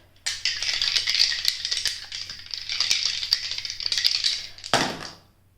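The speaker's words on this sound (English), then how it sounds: "Let's do your astro dice for Gemini." Astro dice rattle and tumble steadily for about four seconds, a busy clattering that ends with a final sharper knock as they settle, close and moderately loud with no talk over it.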